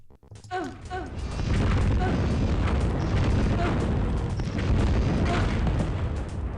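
A firebomb goes off in the shooter Rise of the Triad: Dark War, a loud booming blast that rolls into sustained roaring rumble for several seconds, with crackling bursts layered over the dense low-end wash.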